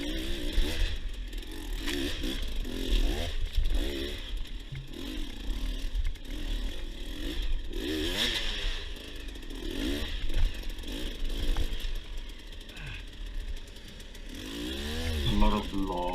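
Enduro motorcycle climbing uphill over large loose rocks, its engine revving hard in rising and falling surges over a steady rough drone, with scraping and clattering from the rocky ground.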